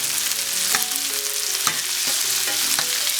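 Seasoned chicken pieces frying in a skillet just after being flipped, a loud, dense, continuous sizzle with a few soft scrapes and taps of a utensil, close and steady with no talking.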